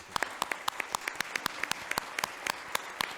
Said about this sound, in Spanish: Le agradecemos a Raúl que nos haya acompañado esta tarde en este inicio de jornadas con un fuerte aplauso